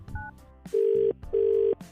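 An outgoing call for a radio prank plays over a phone line: a brief beep, then two long steady ringback tones separated by a short pause, loud and close.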